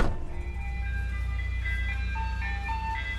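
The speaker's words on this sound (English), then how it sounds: "Ice cream truck." An ice cream truck passes outside an RV, its chiming jingle melody ringing clearly over a loud, steady engine rumble throughout.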